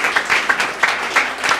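An audience at a Sunday church service bursts into applause, a dense, steady patter of many hands clapping, fairly close and moderately loud, with no voices heard.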